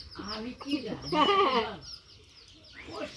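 A hen with her chicks makes several short, close clucking calls in a few bursts, then a brief pause and another call near the end, with voices in the background.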